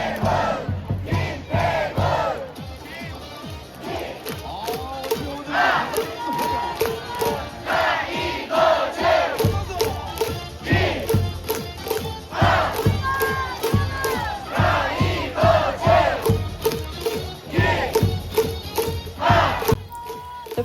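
A loud stadium crowd chants in rhythmic unison at a Lotte Giants baseball game in Korea, led by a cheerleader over a big sound system, with steady repeated shouts and claps filling the whole stretch.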